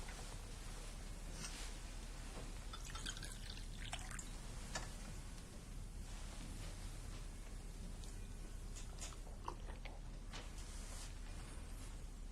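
Drink poured into a glass in a period drama setting, faint trickling and dripping liquid with small clinks, quiet and close against a low room hum.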